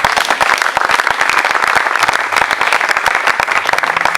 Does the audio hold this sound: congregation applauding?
yes